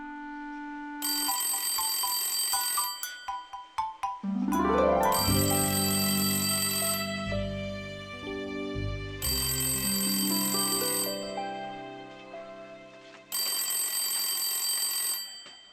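A telephone ringtone plays in an indoor home setting, a bright electronic melody in repeated bursts with short gaps between them, loud and close, with no talking over it.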